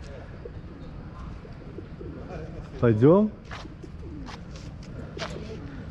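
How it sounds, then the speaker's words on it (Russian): A pigeon in Dubrovnik's old town gives one rising, throaty coo midway, close by, over a low street hum, with a brief spoken word nearby. "Будешь голубей гонять?"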